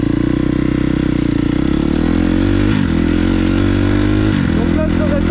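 A KTM motorcycle engine runs loud and close with a steady, throbbing beat, dipping and shifting pitch twice as it is revved and eased off.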